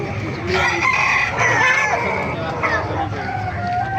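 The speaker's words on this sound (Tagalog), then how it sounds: "Ito, may maganda siyang manok na dala dito, golden." A rooster crows, an 11-month-old Golden Boy gamecock at an outdoor market, its call rising over busy crowd chatter and voices talking nearby.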